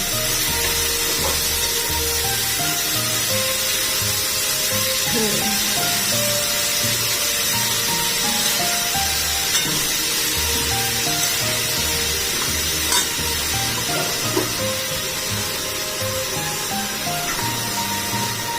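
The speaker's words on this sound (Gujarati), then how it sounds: "આ રીતે ધીમે ધીમે તમારે ચોળીને એકદમ સરસ રીતે બધું જ તેલ ચડી જાય અને બધી જ ચોળી તેલમાં મિક્સ થઈ જાય એ રીતે સરસ હલાવી દેવાની છે." Black-eyed peas (chori) frying in oil in a pan, a steady dense sizzle with soft scraping and rubbing as they are stirred slowly, continuous and close throughout with no talking.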